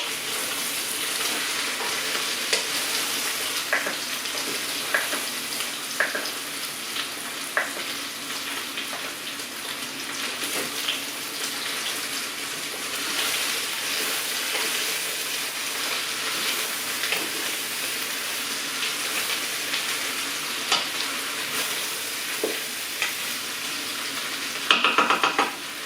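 Tartiflette being stirred in a frying pan, with continuous close sizzling and frying and occasional scrapes and clinks of the utensil against the pan, no voices.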